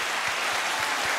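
A small group in a podcast studio claps for a guest, a brief, close burst of dense clapping with a few soft thumps.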